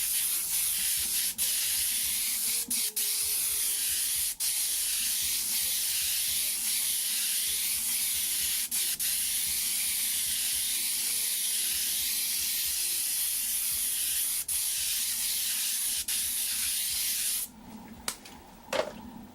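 An airbrush sprays brown paint in wood-grain layers over a wet base coat, a steady close hiss that runs almost unbroken, briefly interrupted a few times, then cuts off near the end.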